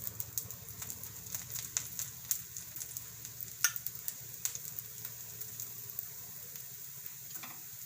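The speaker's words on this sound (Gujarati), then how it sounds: "રીતે આપણે સરસ બે બાજુ શેડવી લેવાનું અને થોડું થોડું આપણે તેલ રાખવાનું" Drumstick leaf and yogurt paratha roasting in oil on a hot pan, giving a steady quiet sizzle with faint crackles and pops throughout.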